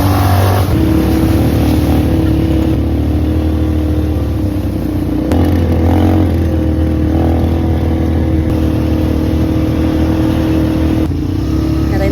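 An ATV engine runs steadily on the Cagsawa off-road trail near Mayon, a loud, continuous drone with rising and falling revs throughout the ride.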